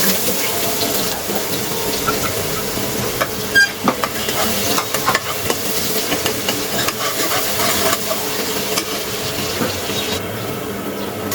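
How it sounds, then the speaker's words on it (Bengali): Onions poured into hot oil for khichuri, giving a loud, steady sizzle that fills the whole stretch with occasional stirring clinks and no talk. "তেলটা গরম হলে এখন পেঁয়াজ ঢেলে দেবো"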